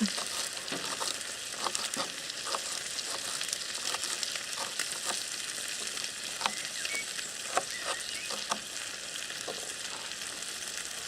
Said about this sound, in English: So a little bit of oil, because we're just going to fry up these leeks